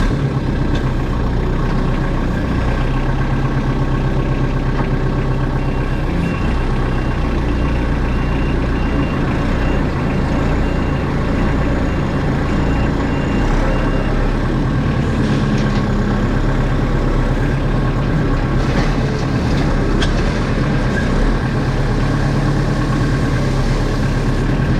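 A heavy machine engine runs steadily at close range while gravel is spread, a continuous loud low rumble with a steady mechanical hum throughout and faint beeping at times.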